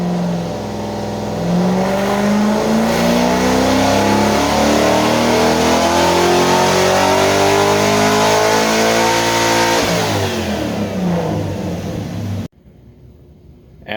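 A C4 Corvette engine on a dyno during a baseline pull, loud and close, climbing steadily in pitch through a long wide-open rev before dropping off abruptly at the end.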